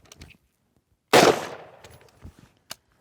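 A single sharp gunshot from a firearm during a snap shot drill, one loud crack with a decaying tail, followed by faint handling clicks and a small metallic click near the end.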